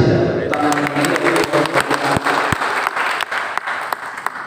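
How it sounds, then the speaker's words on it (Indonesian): Loud applause at an anniversary celebration in Papua, with close, distinct hand claps over a crowd and voices talking early on. "Mari kita berikan apresiasi dan tepuk tangan"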